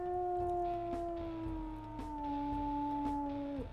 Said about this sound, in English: Ooh, a nice deep howl.